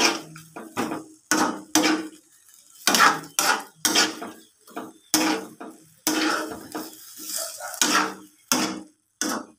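Metal utensil clanking against a cooking pan while vegetables are stirred, with sharp irregular scrapes and knocks in quick bursts separated by short pauses, close and clear.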